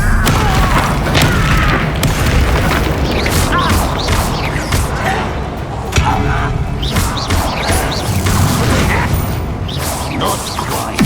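Booming spell explosions from the Bombarda curse in the video game Hogwarts Legacy, loud dense blasts and crashes layered with battle noise, continuous and near throughout, with a voice shouting briefly.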